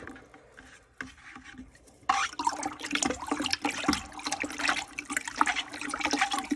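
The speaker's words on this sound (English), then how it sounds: "we're just going to dump that in the bucket, into the water. Okay, and stir it around a little bit" Water sloshes and swirls in a bucket as lime is stirred into it, a rough, churning rush with scraping, rising after a quieter start.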